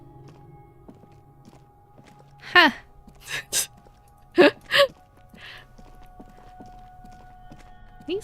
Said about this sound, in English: These footsteps are scary.